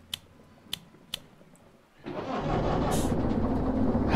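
A few faint clicks come first, then an engine turns over and catches, settling into a loud, rough, continuous clattering idle much like a tractor.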